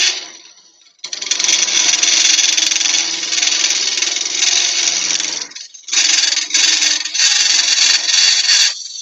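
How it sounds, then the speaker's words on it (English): A Hollow Pro hollowing tool cuts into spinning wood on a lathe with a steady, loud, hissing scrape that breaks off briefly near the start and again around the middle before resuming, close up. "It's a bit bigger. It's called the Hollow Pro Hollowing System."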